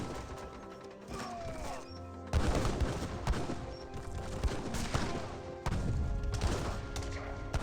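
Volleys of musket fire from recruits fighting dragoons in Age of Empires 3, a dense crackle of overlapping shots with sharp bursts that swell around the middle and again near the end.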